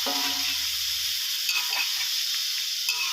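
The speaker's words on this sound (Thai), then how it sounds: "ทำการผัดคลุกเคล้าให้ทั่วนะครับ" Mixed mushrooms stir-fried with oyster sauce in a hot pan, a continuous close sizzle with scraping stirs every second or so, alone with no talk.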